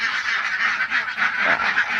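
Loud, nasal duck calls sound continuously up close, several birds honking and quacking over one another without pause.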